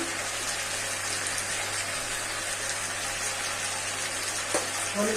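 Chicken fries in a pan with spices and turmeric, giving a steady, even sizzle that holds at the same level throughout, with a faint clink near the end.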